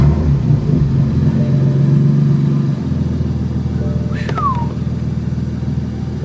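A BMW F80 M3 engine is started after a fuel pump install, cranking and catching into a low, rumbling idle that settles steadily, loud and close, with a brief high squeal midway.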